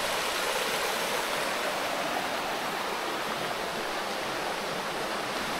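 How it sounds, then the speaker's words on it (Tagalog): A river runs steadily near a waterfall in a mountain nature park in Atimonan, its broadband rushing flow unbroken and fairly close throughout. "Yan may running water dito, ilog siya."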